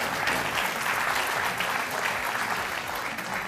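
A live audience claps steadily at a humour show while the jury is introduced, a dense, continuous round of applause that fills the room and eases off slightly toward the end.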